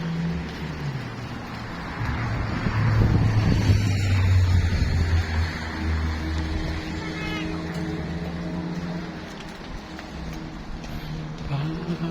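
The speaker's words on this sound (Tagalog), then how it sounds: "Ganda naman ang ano nila, bangka." A fishing boat engine hums and rumbles steadily nearby on a trip off Mykonos, Greece, swelling louder in the first half, while people talk intermittently over it.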